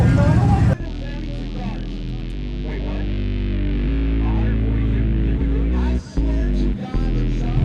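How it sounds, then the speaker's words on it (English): An LS-swapped car, either a Travelall wagon or a 350z drift car, revs hard at Holley LS Fest with a loud sustained engine roar that holds and briefly cuts out twice near the end, with voices faintly under it. "are you gonna smoke the tires until they blow?"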